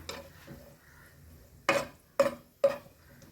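Cashew nuts are stirred in a metal pan, three distinct scraping clanks of the spoon following a soft stretch of quiet rustling.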